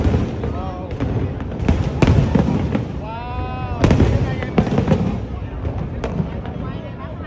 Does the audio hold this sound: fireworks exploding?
yes